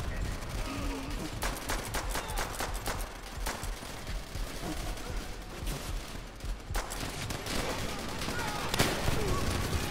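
Near-constant gunfire in the World at War co-op game, with dense automatic bursts and scattered sharp shots at a moderate level, mixed with battle noise and players talking throughout.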